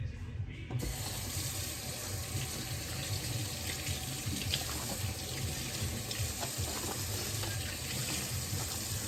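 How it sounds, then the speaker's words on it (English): A steady stream of water runs continuously into a baking pan holding salmon and vegetables, a broad rushing splash that holds at an even level throughout. "I'm gonna add a little water in the pan."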